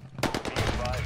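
Weapon fire in a video game, a quick cluster of sharp gunshot bursts layered over one another within about a second, fairly close and loud, with a voice partly underneath.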